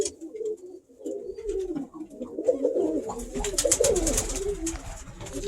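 Pigeons in a loft coo continuously in overlapping low, rolling phrases, close and fairly loud, joined near the end by a burst of fluttering wings and scuffling.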